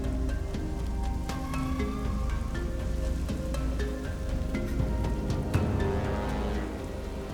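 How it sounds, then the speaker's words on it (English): Rain falling steadily outdoors during a Survivor endurance challenge, a continuous dense patter of drops with occasional sharper knocks, near and fairly loud throughout, with no talk. "Rain starting to come in."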